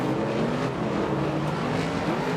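Superstock race cars roar around a dirt speedway on the final lap, a steady loud engine drone with harmonic whine held throughout, cars close by.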